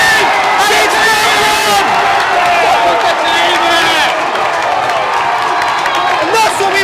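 Football crowd at a non-league playoff final between W&H and Hanworth Villa roaring and cheering after an early goal, a sustained loud wash of voices and whoops with commentary talk running over it.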